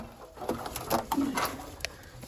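An old game pigeon with a respiratory infection coos in a short series of soft calls with a faint hiss beneath, close by, and no talking over it.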